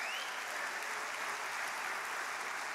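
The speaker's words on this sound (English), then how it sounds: "Give the Lord a hand clap of praise." A church congregation gives a hand clap of praise during Pastor Matt Hagee's sermon: a steady, even roar of many hands clapping, heard from a distance at low level with no voice over it.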